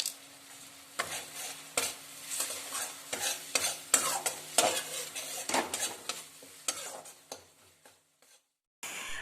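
Spice masala frying on high heat in a pan while a spatula stirs and scrapes it, for a whole-tomato fry dish, giving a steady close sizzle broken by rhythmic scraping strokes and no talking.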